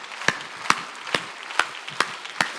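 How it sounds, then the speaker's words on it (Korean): Slow, evenly spaced hand claps during a church worship service, about six sharp separate claps in a steady rhythm, fairly faint and with no voices. "이게 박수 좀 쳐."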